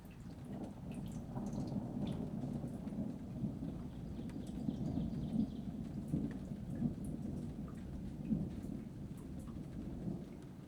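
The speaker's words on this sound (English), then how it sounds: "I recorded some very, very nice rolling thunder that I will insert a clip here" Rolling thunder rumbles low and continuous through a rainstorm, with the steady hiss of rain and scattered drips over about ten seconds, fairly loud and with no voices.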